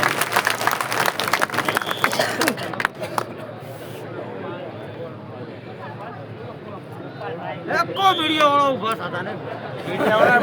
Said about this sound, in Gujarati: આપ સૌ એમનું તાળીઓથી સ્વાગત કરો.